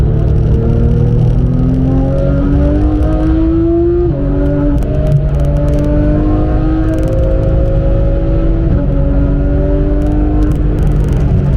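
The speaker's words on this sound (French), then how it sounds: "encore une GT3 avec le logo Manthey Racing derrière" A Porsche 911 GT3 bearing Manthey Racing logos drives the Nürburgring, its engine loud and close, climbing through the revs in rising sweeps with a clear drop at each gear change.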